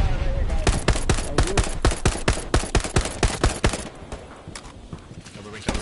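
Rapid gunfire in the Hell Let Loose video game, bursts of sharp shots crackling in fast runs under a player's voice before thinning out toward the end.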